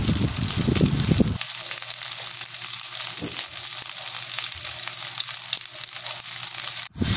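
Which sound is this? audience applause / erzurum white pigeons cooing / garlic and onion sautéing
garlic and onion sautéing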